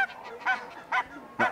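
A duck calling with three loud, nasal honking quacks spaced about half a second apart, close by and clear over a quiet background.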